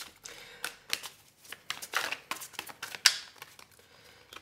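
Tarot cards being shuffled by hand produce quiet, uneven riffles and soft papery flicks, with a sharper snap of card edges near the end.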